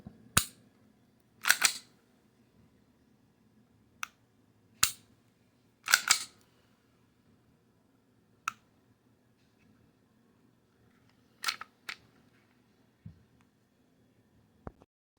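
Sharp, dry mechanical clicks from an FN Reflex XL pistol's trigger as it breaks and resets, heard close and isolated in a quiet room, arriving in small pairs and single snaps spaced a second or two apart.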